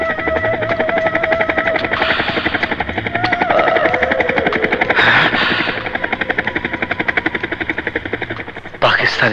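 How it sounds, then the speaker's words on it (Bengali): A helicopter flies overhead in a film scene, its rotor chopping in a fast, steady rhythm, loud and close, with a sharp surge in the final moment. "হেলিকপ্টার"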